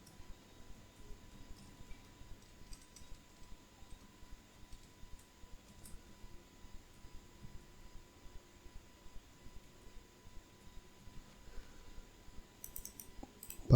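Faint, quick clicking of keys on a computer keyboard as a password is typed, a steady run of soft taps over a low hiss with no talking.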